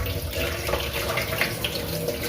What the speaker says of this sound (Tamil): இதுல சில் தண்ணி ஊற்றிக்கலாம்.